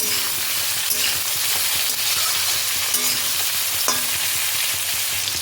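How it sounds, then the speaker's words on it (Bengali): Eggplant pieces stir-fry in hot oil, a dense continuous sizzle with scraping clicks of a spatula turning the vegetables, loud and close with no talking. "বেগুনগুলো দিয়ে খানিকক্ষণ নাড়াচাড়া করে নেব।"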